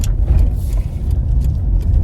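Mk5 Ford Escort driving along, a steady low engine and road rumble continuous and close throughout, with no talking.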